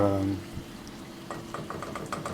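A steak fries in a pan while someone cooks breakfast, with a soft, uneven crackle and sizzle. Brief clinks and stirring sounds break in, and a low hum fades out at the start.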